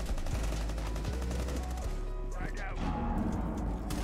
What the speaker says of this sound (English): So he's shooting me through walls.